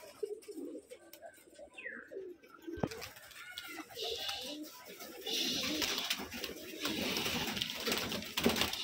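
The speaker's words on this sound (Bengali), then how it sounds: "এই যে কবুতর খাইতে দিছে, এই সবগুলো কবুতর নামছে দেখুন" Gerebaj pigeons at a Rajshahi pigeon farm coo softly and intermittently while feeding, joined after a sharp knock by a louder rustle of many birds settling and flapping nearby; a voice murmurs faintly in the background.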